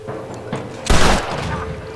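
A single heavy gunshot booms out at close range in Red Dead Redemption, cracking sharply over a low game background with no talking.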